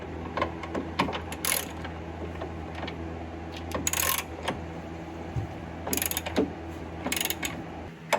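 A ratchet clicks in quick bursts while tightening M brace bolts on an Infiniti Q50, the sharp pawl ticks coming in several separate runs, close and fairly crisp, with faint mechanical clatter between them.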